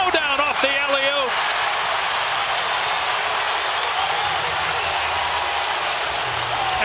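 A basketball arena crowd roars after an OKC Thunder alley-oop one-hand dunk in an NBA playoff game, a loud sustained cheer with an announcer's voice briefly over the start.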